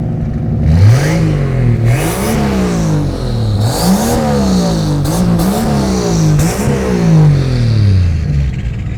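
A truck fitted with a cheap turbocharged slant six engine revs hard again and again, its pitch climbing and dropping in repeated surges. The exhaust is loud and close, and no voices are heard.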